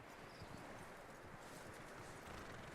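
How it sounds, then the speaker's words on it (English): A horse's hooves clip-clop in a steady rhythm in the Red Dead Redemption 2 video game, faint and continuous beneath a dense, noisy game background. "That looks like a decent horse."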